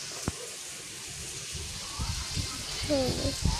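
Heavy rain falls in a steady, close hiss with occasional sharp drips, while someone talks over it intermittently toward the end.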